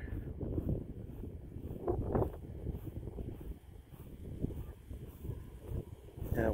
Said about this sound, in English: That wind is getting kind of strong.